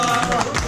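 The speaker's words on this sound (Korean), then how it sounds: "박수 한번 전해주세요." A group on a dive boat claps for the dive guides after a finished dive, a dense burst of hand claps mixed with crowd murmur, loud and close.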